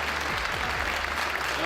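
An audience applauds the new M-Mode board of directors with a steady, even wash of clapping from many hands throughout the short moment.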